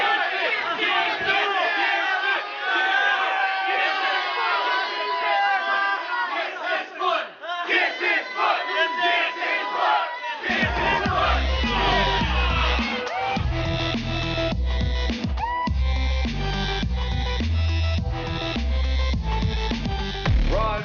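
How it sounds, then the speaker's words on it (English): A capacity crowd at a professional wrestling show roars and chants continuously, a dense, loud wash of voices that swells with heavy low rumbling in the second half. "This capacity crowd, love him or hate him, showing the respect to King Shane Williams"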